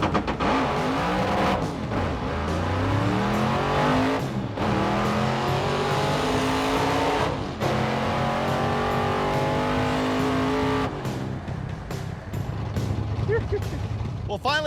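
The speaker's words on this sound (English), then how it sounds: "It didn't fully hook, and he hit the rev limiter in first" A drag race car launches hard down the strip, its engine screaming through repeated rising revs and bouncing off the rev limiter in first gear, loud and close for most of the run before easing off.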